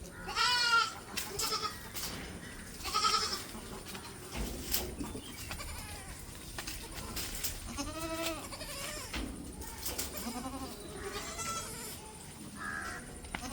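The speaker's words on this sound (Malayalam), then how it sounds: "ഫസ്റ്റ് പ്രസവത്തിലൊരാടും അതിൻ്റെ 2 കുട്ടിയാടും, ഒരു മുട്ടൻകുട്ടി ഒരു പെടക്കുട്ടി." A first-time mother goat and her two kids, one male and one female, bleat repeatedly nearby, their high, wavering calls overlapping in a busy farm setting.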